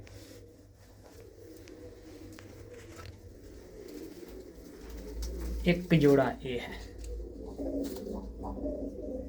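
Pet pigeons, including a surkha pair kept by a fancier, give low cooing calls close by, building in the second half, while someone talks over them.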